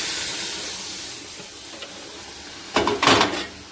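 Boiled mung dal is poured into a hot pan of cooked tomatoes and peas, setting off a loud sizzling hiss in two bursts near the end after a steady background hiss of cooking.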